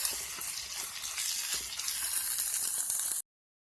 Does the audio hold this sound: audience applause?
no